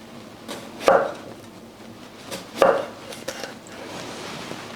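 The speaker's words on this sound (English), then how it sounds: "the first step is let's slice them to about the size of Shakey's Mojos" A knife slices through potatoes with two distinct firm cuts against the board, a beat apart, followed by lighter knocks and soft handling sounds. No speech.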